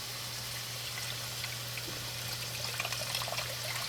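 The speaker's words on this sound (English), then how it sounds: "pour in this Pacific Organic chicken broth in the pan" Pacific Organic chicken broth pours steadily into a pan, a soft continuous trickling stream with faint splashes, close and alone, with a low steady kitchen hum beneath.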